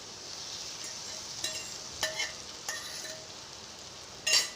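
Beaten eggs stirred into hot masala oil for anda bhurji, a soft continuous sizzle of frying under scattered scrapes and clinks of a spoon, with a sharper clatter near the end.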